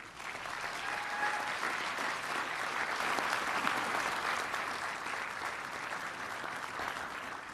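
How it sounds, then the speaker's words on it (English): Graduates of an osteopathic medicine class applaud their loved ones, a sustained wash of dense clapping from a large audience that holds steady and slowly tapers, heard alone without talk. "Graduates, please join me in a round of applause for your loved ones."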